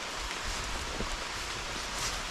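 Steady rain falling in a humid tropical forest during a storm, a dense, even hiss of drops on leaves and surfaces, close and continuous with no talking.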